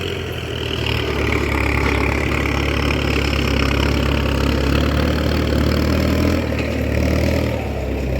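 A modified racing farm tractor engine idles loud and close, a steady deep rumble with slight surges throughout.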